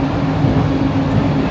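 An airport terminal train runs toward Terminal B, giving a steady, loud rumble and hum with a low drone throughout the ride. No voices can be heard.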